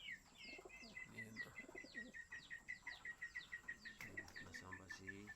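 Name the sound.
racing pigeons cooing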